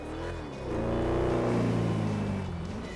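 A Porsche Spyder engine driving in GTA 5, a steady motor drone that rises in pitch as it accelerates and then holds, heard alone without speech.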